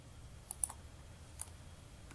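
A computer mouse clicks while someone works in SolidWorks CAD software: a few sharp, close, isolated clicks spaced irregularly over a quiet background.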